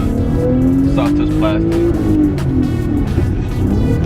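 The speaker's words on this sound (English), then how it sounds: "I really love how amazing this car sounds for a V6 though." An Audi A5 V6 with a six-speed manual drones steadily while driving, its engine pitch rising and falling under a person talking throughout.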